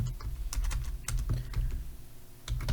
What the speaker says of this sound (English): we're going to type in Powerflex